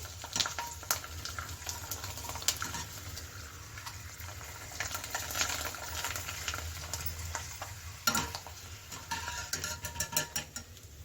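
Rice flour papad frying in hot oil, with a steady close sizzle and crackle running throughout, joined by occasional clinks and brief louder bursts as pieces are stirred or added.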